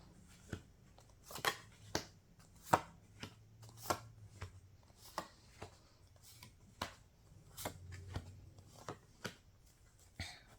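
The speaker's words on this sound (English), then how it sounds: "Put down the rest of the cards." Tarot cards being laid down one after another onto a table, a series of crisp, sharp taps and light slaps at an irregular pace, close and fairly quiet, with no voice present.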